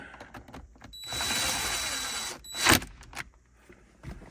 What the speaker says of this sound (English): Then you just got to put the two 7 millimeters back in over here. Tighten those in.